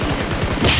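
Gunfire in the battle-royale game PUBG, a brief loud burst of rapid shots close by, alone with no talk.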